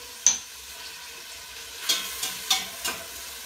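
A cauliflower stir-fry sizzles softly in a pan, broken by a handful of short scraping stirs that stand out over the quiet frying hiss.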